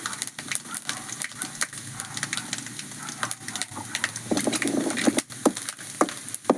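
Mustard seeds tossed into grated coconut browning in a hot pan give a steady close sizzle with scattered sharp pops and crackles, some stirring knocks, and no talk.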